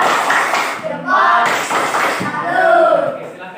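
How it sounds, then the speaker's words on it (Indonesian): Students in a classroom clap a patterned 'tepuk salut' rhythm together, a series of close, sharp group claps over a few seconds, with voices mixed in. "Pak minta anak-anak untuk memberikan tepuk salut"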